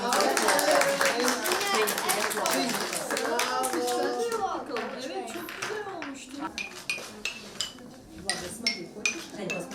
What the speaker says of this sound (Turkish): Bravo, alkış yapın.